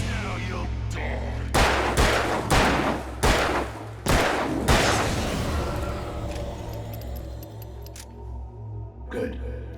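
Gunshots ring out in the Alan Wake nightmare chapter, a burst of about six loud, sharp shots in quick succession followed by a fading rumble and a last distant crack.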